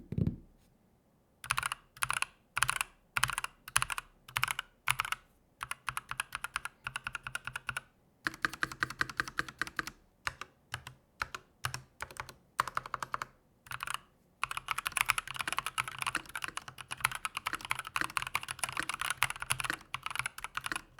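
Close, crisp typing on an ROG mechanical keyboard with smooth linear switches and lubed stabilizers, arriving in bursts of quick keystrokes separated by short pauses, then a longer continuous run of dense typing with no rattle.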